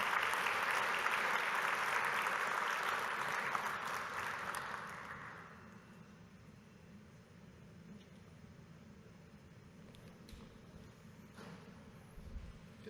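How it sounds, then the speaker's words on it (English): Audience applause after a cyber-security presentation, steady clapping for about five seconds that fades out, leaving quiet room tone with faint rustles and a soft thump near the end. "thank you for the applause"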